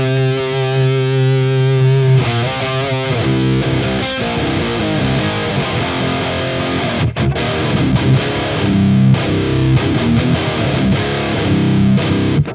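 Electric guitar played through a Sunless Effects The Winter overdrive pedal set for thick tones, a loud, continuous distorted chordal and riffing passage with sustained notes, no talk.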